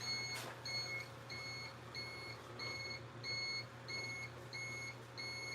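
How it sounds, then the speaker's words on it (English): A motorcycle-style helmet beeps in a woodturning workshop, a faint, evenly spaced series of short high electronic tones repeating about every half second over a low steady hum, with no voices. "It's the helmet beeping"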